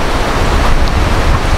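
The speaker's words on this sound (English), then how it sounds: "Very windy at the moment" Strong wind in Namibia buffets the microphone in a loud, continuous roar of rushing air with broadband noise and no speech.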